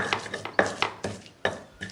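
Spices being ground in a stone mortar and pestle (ulekan), a series of rhythmic grinding and knocking strokes about every half second, close and crisp with no voices.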